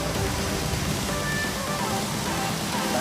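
Heavy rain lashed by strong wind, a continuous dense roar of falling water with gusty low rumble beneath, steady and enveloping from start to finish.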